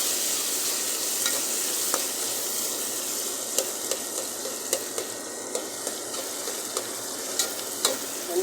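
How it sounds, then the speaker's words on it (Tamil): Onions and green chilies sautéing in a hot pan give a loud, steady sizzle with occasional sharp spatula taps and scrapes, close and continuous with no talk. "வெங்காயம் பச்சை மிளகா போட்டாச்சு போட்டு கொஞ்சம் வதங்க விடலாம்"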